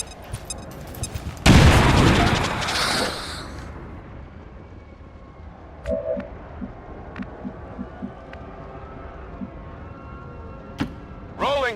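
A grenade explodes in XCOM 2: War of the Chosen with a sudden loud, close boom that rumbles and decays over about two seconds, followed by quieter clicks and ambient game sounds.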